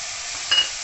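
Green peas tip into a pan where garlic and fenugreek are gently frying, a brief sharp hiss and sizzle rising over the steady background frying.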